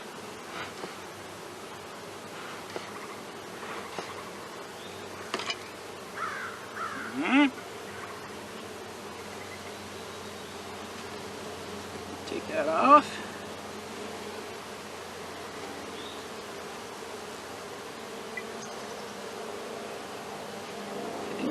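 Honey bees drone steadily from an opened beehive during a varroa mite check, a low continuous buzz running under the whole stretch, with occasional knocks of hive parts being handled and a few brief spoken words.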